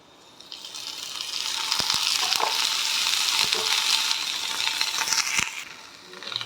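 Okra for an okra and egg stir-fry sizzles steadily in hot oil, a loud, continuous frying hiss with a few sharp clicks of a utensil scattered through it.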